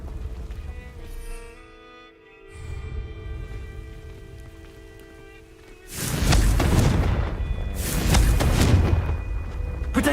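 A Confringo fire spell cast in Hogwarts Legacy goes off as a loud, booming blast that swells abruptly midway, with a crackling, rumbling roar over soft tonal game ambience that fills the earlier quiet stretch.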